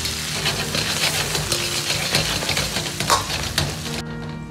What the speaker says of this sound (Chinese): 炒香后放入少许的红油皮鲜豆瓣酱